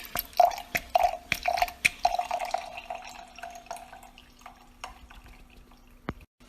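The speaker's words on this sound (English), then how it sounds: "and then it pours some wine." Wine drips and small splashes patter irregularly from a wine preservation pouring device, then thin into a quieter trickle with a low steady hum behind.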